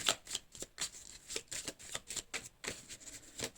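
Tarot cards being shuffled, close and fairly quiet, in quick irregular riffling bursts that repeat throughout without speech.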